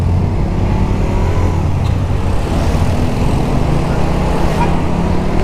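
Steady, loud road noise from a motorcycle touring along a highway toward Surabaya in the early evening, a continuous engine and wind drone with no breaks.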